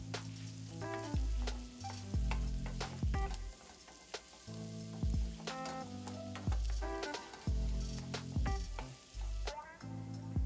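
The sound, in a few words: chopped garlic frying and being stirred in a pan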